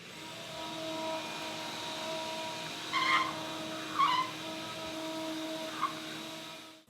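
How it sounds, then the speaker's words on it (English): A vacuum cleaner runs with a steady whine while cleaning out a floor area ahead of flooring work, with a few brief louder sucking surges as debris is picked up. "Clean it up a bit and then vacuum it out."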